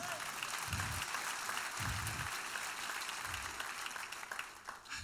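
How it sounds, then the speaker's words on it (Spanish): Sustained applause from a church congregation praising Jesus during a sermon, dense clapping filling the room for several seconds, with a few low rumbling thumps and a faint voice mixed in. "Cuéntale un aplauso a Jesús."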